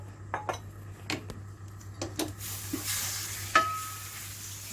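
Boneless chicken is stirred in a few tablespoons of oil in a pan, with scattered spoon knocks and scrapes on the metal over a soft sizzle, close and moderately quiet, no voices.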